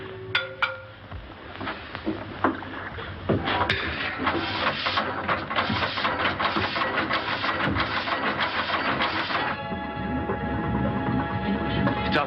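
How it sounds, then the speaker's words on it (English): A boat engine runs with a steady mechanical chug and rattle, fairly loud and close, with clattering knocks and bumps over it and a tonal hum settling in near the end. "Stop the engine."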